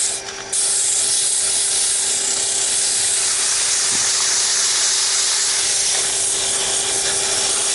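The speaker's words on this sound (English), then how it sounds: "I'm just going to go from a quick 150 in certain areas where I think it needs a little bit more sanding" Sandpaper at 150 grit is held against a wooden muddler spinning on a lathe, giving a loud, steady, bright hiss that starts abruptly and runs on without a break.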